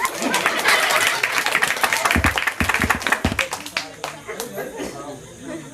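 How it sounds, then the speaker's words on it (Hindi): Audience applause and clapping for the band at a live Hindi comedy show in a village venue, a loud dense burst with chatter mixed in, thinning into scattered claps toward the end. "एक बार जोरदार ताली हो जाए हमारे बाजा वाला बन के लिए"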